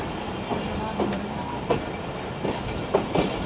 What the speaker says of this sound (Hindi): दोस्तों वज़ीराबाद जंक्शन के यार्ड से अब निकल रहे हैं।